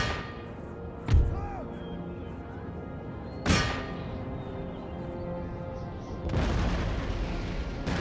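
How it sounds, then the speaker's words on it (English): Cannons in the Empire: Total War video game fire at fortress walls: two sharp, deep booms a couple of seconds apart, then a broader rumbling blast, over a low battlefield ambience. "Those cannons firing at those walls."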